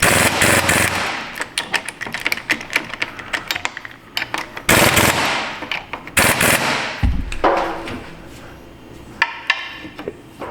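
An impact wrench works on the rear viscous coupler of an AWD Toyota Sienna, loud close rattling bursts of hammering, several long runs broken by short pauses and a heavy clunk.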